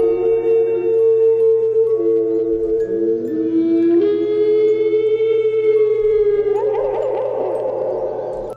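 A long, loud, wailing roar that rises and falls in pitch like a siren, sustained throughout with no talking.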